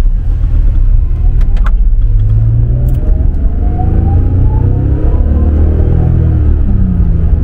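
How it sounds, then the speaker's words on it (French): Honda NSX engine heard from inside the cabin while driving, a steady loud low drone with rising and falling pitch sweeps as the car accelerates and shifts, no talk over it. "On entend le chant du moteur, mais on arrive encore à parler."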